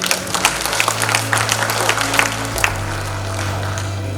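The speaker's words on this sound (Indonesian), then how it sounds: "Tepuk tangan dulu." Audience applause at an evening gala in Subang marking a regional leader's first year, a dense steady wash of many hands clapping, fairly loud, with a low hum underneath and no talk.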